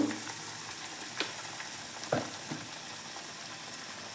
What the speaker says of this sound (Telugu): ఒక టూ మినిట్స్ మీడియం ఫ్లేమ్లో వేయించుకున్నామంటే పచ్చి వాసన అంతా పోతుంది